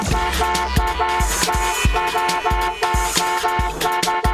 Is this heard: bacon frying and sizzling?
no